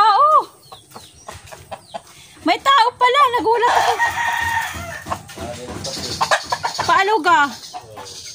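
Chickens cluck and a rooster crows repeatedly at a farmyard in the rural Philippines, the calls coming close and loud, mixed with someone talking in between.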